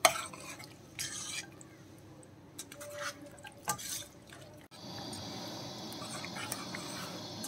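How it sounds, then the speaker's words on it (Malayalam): Beef is stirred into curry masala in a pan, bringing intermittent wet scrapes and clinks of the spoon against the pan, then a steadier sizzle near the end, with no voices. "ഒന്ന് ബീഫും കൂടി ഇതിലേക്ക് ചേർത്തിട്ട് നന്നായിട്ട് ഒന്ന് ഇളക്കി യോജിപ്പിക്കാം"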